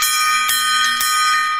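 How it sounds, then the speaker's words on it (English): A single metallic gong or bell is struck and rings out with a bright, sustained shimmer, a second strike landing mid-ring, loud and close on a talk radio show. "Ethan gets the gong."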